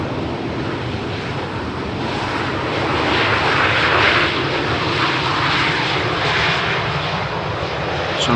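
A jet landing on runway 18R at Amsterdam Schiphol Airport roars loudly and continuously, the engine noise swelling slightly as it passes, with wind buffeting the microphone.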